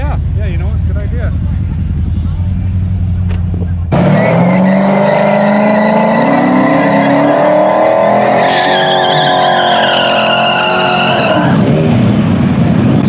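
Drag race between a purple Hellcat Charger and a junkyard-build Monte Carlo: loud engine roar that climbs in pitch after an abrupt launch, tires squealing as revs rise and shift, with voices talking over the noise.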